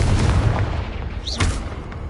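A Confringo fire spell bursting in Hogwarts Legacy, a booming explosion with a brief rising whoosh partway through, loud and close.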